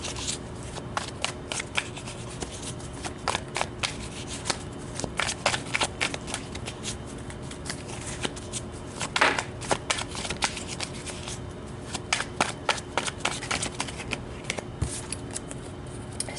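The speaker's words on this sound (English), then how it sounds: "let's pull some tarot to accompany these cards right here" Tarot cards being shuffled by hand for a weekly forecast reading, a steady run of soft riffling and slapping bursts close up with no talking.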